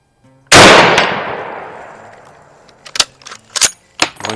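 A Mosin Nagant rifle fires one loud, close shot at steel plates, and its boom rings out and decays over about two seconds. Several sharper metallic cracks and clanks follow a moment later.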